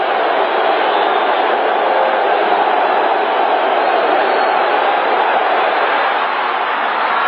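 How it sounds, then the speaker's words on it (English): A football stadium crowd roars in a broad, steady wash of cheering that holds at a constant loud level, distant and diffuse, from Jets fans during a game against the Cleveland Browns. "this crowd comes to life"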